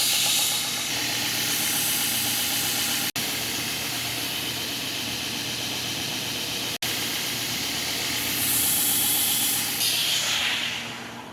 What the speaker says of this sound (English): Now take it to the 400 grit belt, get them all cleaned up and finish these up.